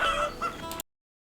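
Chickens cluck in a farming video game, a brief close burst of game-audio clucking that cuts off abruptly into silence.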